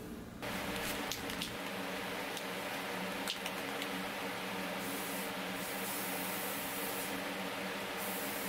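Spray paint hissing steadily onto the edges of a fishing lure to build a colour fade, a continuous close airy spray with a few brief pauses and light handling knocks.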